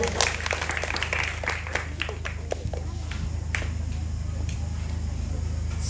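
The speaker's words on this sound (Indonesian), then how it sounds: "Tepuk tangan dulu." Audience in a church hall claps during a Bible quiz competition held for a church building dedication, a brief scattered burst of hand claps that thins out, over a steady low hum.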